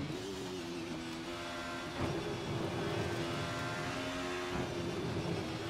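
Simulated race car engine from Assetto Corsa drones steadily through a lap, a strong harmonic whine holding pitch with brief shifts and surges partway through.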